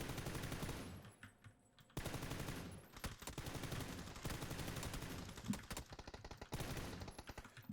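An M4 rifle in PUBG empties a full magazine during aim-training practice, fast automatic bursts broken by short pauses, crisp but quiet with no talking.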